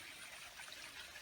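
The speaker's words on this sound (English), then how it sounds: "This is a nice waterfall." A small waterfall trickles into an island reservoir after September rains, a steady faint rushing of water with no voices, continuous and even throughout.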